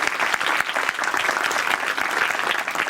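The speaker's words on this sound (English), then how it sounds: "So big round of applause." A cultural heritage conference audience gives a big round of applause, dense continuous clapping, loud and close, filling the whole moment with no voices on top.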